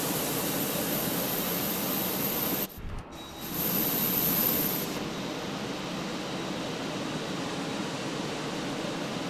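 Jet engine spooling up in a flight simulator game during pushback, a steady loud roar-like hiss with a brief dip partway through before the noise settles at a constant level.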